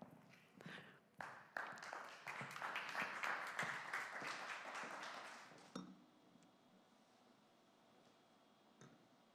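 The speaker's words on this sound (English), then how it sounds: "Thanks for the applause" Audience applause at an in-person artificial intelligence conference, a burst of clapping that builds, holds for several seconds, then cuts off abruptly into near silence with a few stray claps.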